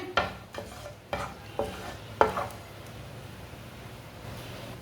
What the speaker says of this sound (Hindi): साबुत धनिया को ना थोड़ा सा रोस्ट होने देंगे।